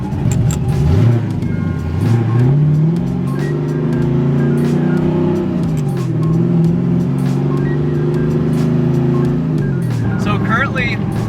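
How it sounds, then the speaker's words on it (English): A loud, rumbling V8 engine in a Subaru BRZ with a broken exhaust drones steadily throughout, its deep exhaust note rising and falling with revs, with a voice speaking over it. "My exhaust is broken, so it's going to be very loud."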